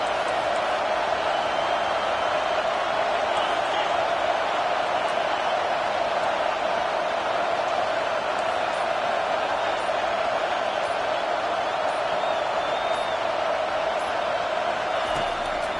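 A football stadium crowd roars steadily behind the defense on third down in a Penn State versus Alabama game, a continuous loud, broad wash of cheering with no clear breaks.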